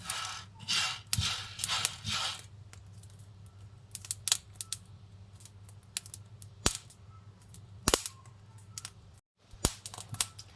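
Sharp, irregular crackles and pops from barley grains roasting and bursting in a dry pan, scattered and uneven over a low steady hum, with no voices.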